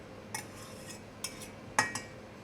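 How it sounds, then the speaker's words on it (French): A knife scrapes the seeds from a split vanilla pod into a saucepan, producing a few faint, brief clinks and scrapes at irregular intervals against a quiet background. "on vient gratter la gousse de vanille dans notre casserole."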